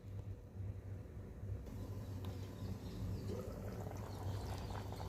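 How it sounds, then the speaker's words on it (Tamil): Tamil fish curry, meen kulambu, bubbles in a pot, giving a soft, continuous gurgling simmer with a low steady rumble and occasional small pops, fairly quiet and close by. "இந்த மீன் வந்து நல்ல ஒரு கொதி வந்துருச்சு"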